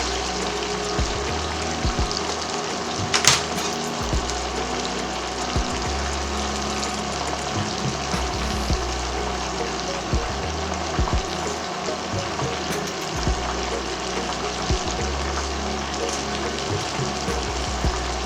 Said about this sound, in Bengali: আমার ললিপপগুলো ভাজা প্রায় শেষের পথে।